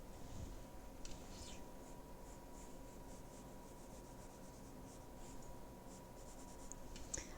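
Pencil scratching and rubbing on paper while drawing, a continuous soft rasp with occasional sharper strokes, close and quiet, no talking.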